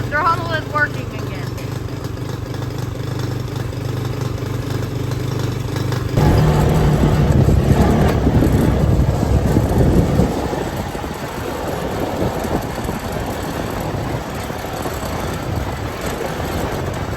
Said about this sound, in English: Well, it's running and the throttle is working again.